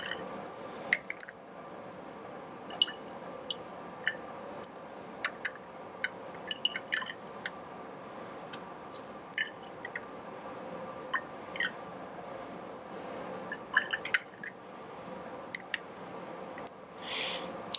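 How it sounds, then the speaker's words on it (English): Coloured liquid is poured into a row of glass test tubes, giving soft trickling with scattered light glass clinks and taps that run steadily throughout at close range. "we are now instructed to put 3 milliliters into each of these test tubes"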